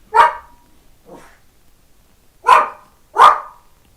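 A pet dog named Baxter barks indoors, three loud close barks with a softer one between, each short and punchy, alone with no talk.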